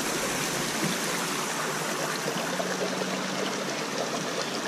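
Shallow stream water runs over a slippery streambed in a steady, close, full-bodied rush with no pauses and no voices.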